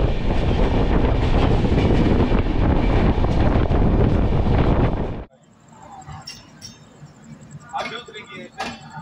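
The Kasi Sangam Express pulls away with a loud, dense roar of rolling wheels and wind buffeting the microphone that cuts off abruptly, leaving quieter clatter and scattered clicks.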